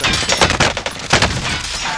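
Rapid bursts of gunfire in the video game Call of Duty: Warzone, a dense run of loud close shots crackling back to back with no talk over them.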